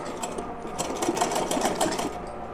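A sewing machine runs steadily while stitching a waistband onto a small dress for a Laddu Gopal idol, a close, continuous whirring hum with no pauses.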